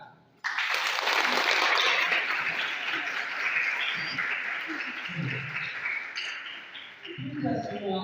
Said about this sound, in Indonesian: Mari kita tepuk tangan.